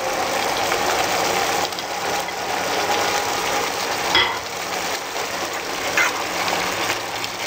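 Colored bell peppers hitting a hot pan of cooked peas for fajitas give a steady, loud sizzle and frying hiss throughout, with a few brief clatters and no voices.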